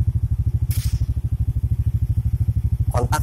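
An idling motorcycle thumps in an even, rapid rhythm close by, and near the end the electric starter is pressed again, adding a brief grinding whir.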